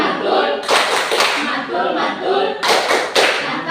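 Classroom group clapping chant called tepuk mantul, with students standing and clapping in unison: bursts of close, sharp claps in two clusters with chanting voices between.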